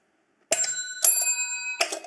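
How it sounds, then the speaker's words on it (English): Small bells fixed to a washboard ring out in three separate shaken bursts, bright and metallic with long sustained tones, close and loud with no talking. "you put the bells on there as well"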